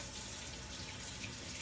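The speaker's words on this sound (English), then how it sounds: "Get that there, rinse off my hand a little bit." Warm water runs steadily from a kitchen tap as a hand is rinsed beneath it, a close, continuous splashing hiss with no talking.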